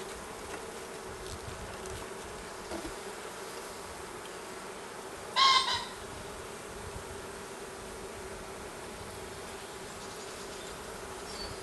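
Honeybees buzz in a steady, moderately quiet drone around an opened hive during an inspection of a queenless colony after a split, with a brief louder rustle partway through.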